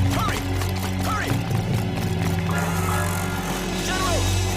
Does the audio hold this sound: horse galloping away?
yes